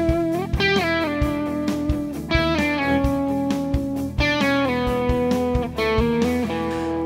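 A distorted electric guitar through an amp, miked off-axis from the speaker center, plays a sustained melodic riff with ringing held notes and picked attacks, loud and unbroken with no voices.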